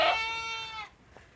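A goat kid about one month old gives a single clear, harmonic bleat that rings loud for under a second and then breaks off into quiet.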